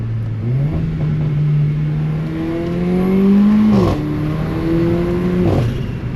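An AMG hot hatch with a punchy 4-cylinder turbo and dual-clutch transmission accelerates through the gears, its engine note climbing steadily with a quick shift dip and another rising pull, loud and close from inside the cabin.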